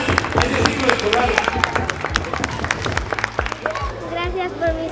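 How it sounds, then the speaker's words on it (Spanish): Students in a Mexican school setting clap and cheer as a group, a dense crowd applause with many sharp hand claps that runs steadily through, mixed with excited voices and babble. "aplauso para ustedes."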